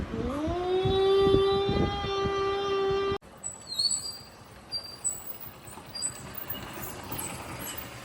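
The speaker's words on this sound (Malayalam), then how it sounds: "നമ്മുടെ നാട്ടിലുള്ള ട്രെയിൻ അതാ" A distant train on a rainy day sounds a sustained horn for about three seconds, followed by a faint, broad rumble as it moves along.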